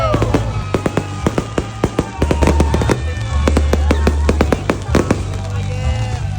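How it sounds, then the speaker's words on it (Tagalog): New Year fireworks at a Christmas village in San Rafael crackle and pop in dense, irregular bursts, fairly near and loud, with a crowd talking and cheering underneath. "Siguro 3 minutes ata yung fireworks na to eh."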